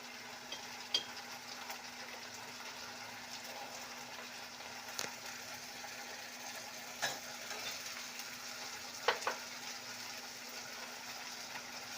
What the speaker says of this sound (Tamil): இந்த சில்லி பேஸ்ட்டை நல்லா ஆயிலில் நல்லா சாத்தே பண்ணிக்கணும்